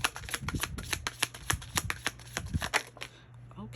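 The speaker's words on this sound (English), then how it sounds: "I should have stopped shuffling when I had the chance." A deck of tarot cards being shuffled by hand, a rapid run of crisp riffling flicks and soft slaps, close and fairly quiet, with no talk over it.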